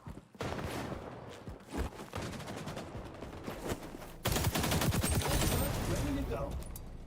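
Rapid AK rifle fire from the online shooter XDefiant, dense automatic bursts continuing throughout, growing louder and harsher in the second half, with game sounds and a faint voice mixed underneath.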